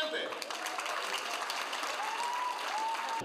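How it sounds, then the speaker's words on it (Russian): Applause from an audience at a sports press conference, a steady patter of many hands sustained throughout at moderate distance and fairly soft. "И аплодисменты!"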